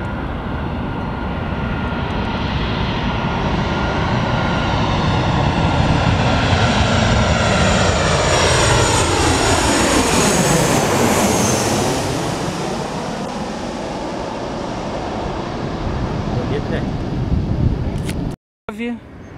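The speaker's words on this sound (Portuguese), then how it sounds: "começou a pousar avião por causa do tempo" A jet airliner lands at Rio de Janeiro's Galeão International Airport on runway 08, its loud engine roar swelling and falling as it passes close by, with a steady background rumble throughout.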